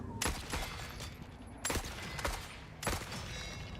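Sniper gunfire in the video game The Forever Winter, three sharp loud shots spaced about a second apart, each cracking over a steady rumbling game background.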